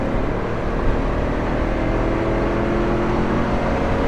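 A manual 1980s executive car pulls away hard after a shift from fourth down to third, its engine a loud, steady, close roar that holds without a break.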